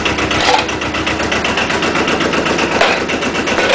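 An Arctic Cat ATV engine runs steadily and loudly up close, a rough even drone with a throbbing pulse as the rear wheel spins, no voices.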